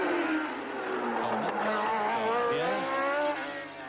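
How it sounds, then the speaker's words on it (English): A Formula One race car, Nigel Mansell's, passes on the Detroit Grand Prix street circuit, its high engine whine sweeping up and down loudly for a few seconds with no talking. "Nigel Mansell's car there"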